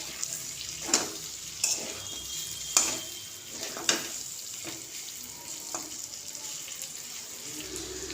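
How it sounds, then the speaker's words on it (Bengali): Lemon chicken frying in a pan during village-style home cooking, a quiet, steady sizzle broken by occasional sharp crackles and light clinks, with no talking. "তাই আরও কিছুক্ষণে এভাবে ভেজে নিয়ে সম্পূর্ণ রেডি হয়ে যাবে চিকেন"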